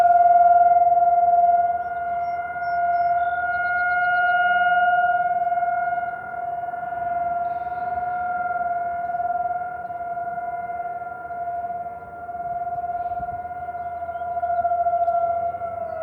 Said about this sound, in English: The siren you're mainly hearing is over near the high school.